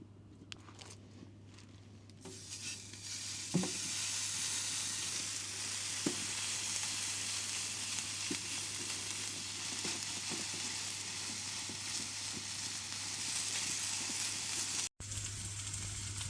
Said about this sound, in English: Right, so I'm just cooking my burgers in here.